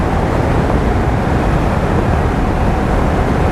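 Steady roaring wind noise buffets a rider's helmet at speed on a Ducati Diavel Dark motorcycle, loud and continuous throughout with no talking.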